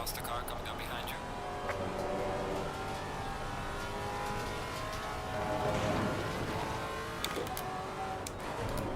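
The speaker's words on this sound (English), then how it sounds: "Faster car coming up behind you." A race car engine drones steadily in the Assetto Corsa Competizione sim-racing game during a six-hour race at Watkins Glen, swelling briefly as a faster car closes in, with a voice talking over it.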